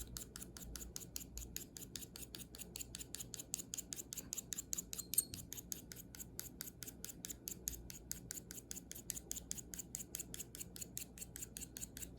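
Pastel is scraped against paper in quick, even strokes, giving a long run of rhythmic, close, faint rasping with no talk.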